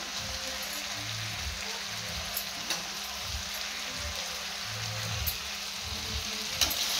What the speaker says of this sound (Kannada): 1-2 ನಿಮಿಷಗಳ ಕಾಲ ಓಪನಲ್ಲೇ ಫ್ರೈ ಮಾಡ್ಕೊಬೇಕಾಗುತ್ತೆ